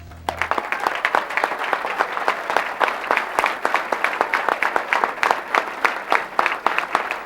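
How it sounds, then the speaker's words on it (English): A large audience at a sports hall of fame dinner claps steadily and warmly, a dense, even wash of applause that carries on throughout. "let's give them a round of applause for heaven's sake"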